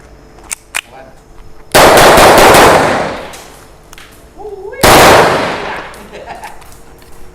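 A NIKSAN Desert Eagle mini blank gun from Turkey fires two very loud, close bursts several seconds apart, each blast ringing off into a long decay, with a brief voice between them.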